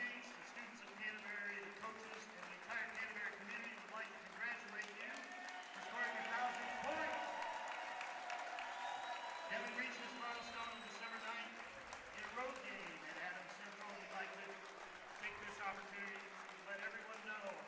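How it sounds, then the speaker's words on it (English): A basketball crowd at a varsity game rises in a standing ovation at half court, sustained applause and cheering swelling in the gym under a commentator's ongoing talk. "Crowd giving Devin a much-deserved standing ovation here."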